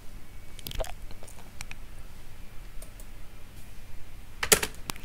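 Steady clicking of keys being typed on a computer keyboard, with irregular taps and a brief louder burst near the end, close by and alone.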